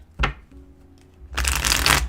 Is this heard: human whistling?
no